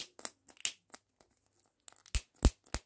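Plastic wrapper on a Poundland mystery surprise ball being torn open by hand: quiet, close crinkles and scattered small rips, building to a few sharper tearing bursts near the end.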